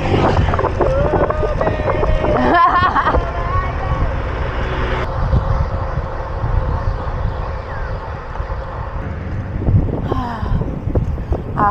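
Strong wind buffets the microphone in heavy gusts, with voices talking intermittently over the roar.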